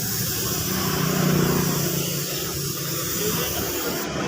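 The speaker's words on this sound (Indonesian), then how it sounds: "kita semprot clear seperti ini" Spray gun hissing continuously as it lays clear coat onto a Honda Scoopy scooter body panel in a paint shop, a steady, close, airy spray with no voices.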